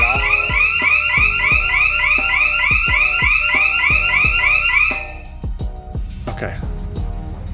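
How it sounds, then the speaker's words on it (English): A Safe Touch home alarm sounding during a test, loud repeating sweeping siren tones filling the room for several seconds before cutting off, leaving clicks and a voice. "I have the alarm tripping. Loud in here."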